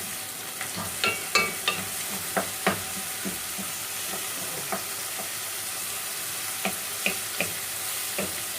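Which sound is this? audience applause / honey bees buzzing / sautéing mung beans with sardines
sautéing mung beans with sardines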